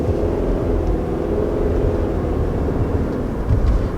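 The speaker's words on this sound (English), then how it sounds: "should have 7 simulated gear changes" A 2019 Subaru Forester accelerating in its sport driving mode, heard as a steady low engine rumble and drone from inside the cabin, with no clear breaks for the simulated gear changes.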